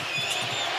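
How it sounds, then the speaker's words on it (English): Arena crowd noise at a FIBA Basketball World Cup 2023 game between Japan and Venezuela, a steady wash of cheering from a distant mass of spectators, brief and moderately loud. "You can hear the crowd starting to get into this."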